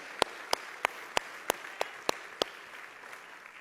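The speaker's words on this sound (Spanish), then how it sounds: "Dale un fuerte aplauso al Señor, iglesia." Church congregation applause with a single clear clap at a steady beat, about eight evenly spaced sharp claps over a soft murmur of room noise, fading out at the end.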